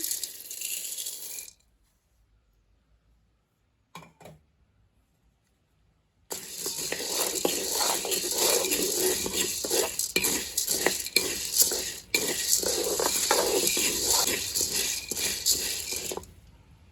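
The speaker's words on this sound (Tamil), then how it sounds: "அடுத்ததாக நாங்கள் கோப்பி கட்டை போட்டு வறுக்க போகிறோம்" Coffee pieces roasting in a pan, stirred into a dense, continuous rattling and scraping that is loud and close, preceded by a short burst, near silence and a brief clatter.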